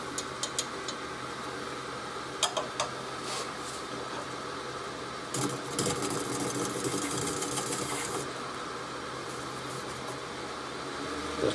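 A lathe spins a pewter workpiece at a reduced speed in a workshop. A steady mechanical whir runs throughout, with sharp scraping bursts as the tool cuts and sends shavings flying. No one speaks.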